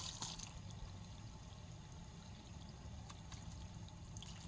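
Water pours and trickles steadily over a temple cat during its bath, a continuous close splashing wash with faint brief sounds above it and no talking.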